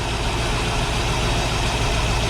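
Twin boat motors idling steadily after repair with a new exhaust manifold fitted, a loud, continuous low rumble close by with no talking.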